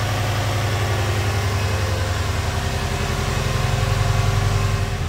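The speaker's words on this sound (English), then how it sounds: "There's no nasty engine noises. It's just burbling away." A rare Japanese twin turbo 4x4 car, found in a barn, idles with a steady low burble, even and unbroken throughout, heard close with no voices.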